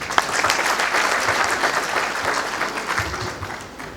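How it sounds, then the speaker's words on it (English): Audience applause at a medical induction ceremony at ABU Zaria, a full round of clapping from a seated crowd that fades gradually toward the end. "Another round of applause for our Vice Chancellor, please."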